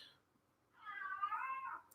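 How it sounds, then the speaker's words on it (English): A cat downstairs in another room, grabbing its toy, gives one drawn-out meow that sounds faint and distant in an otherwise quiet space. "that's a cat in another room downstairs grabbing its toy"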